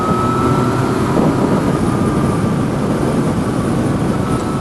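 A Yamaha MT-09 (FZ-09) motorcycle pulling in sixth gear, a loud, steady engine roar mixed with heavy wind rush, unbroken from start to finish.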